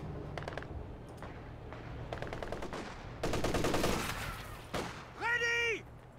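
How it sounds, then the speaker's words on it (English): Rapid bursts of MG34 machine gun fire in a video game, sharp and loud, several volleys in quick succession among other battle clatter, ending in a louder cluster of shots. "MG34 killing its squad."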